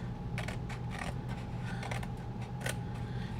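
Scissors snip through a notecard along scored side flaps in a few quick, close cuts over a steady low room hum.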